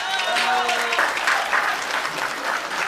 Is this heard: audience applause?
yes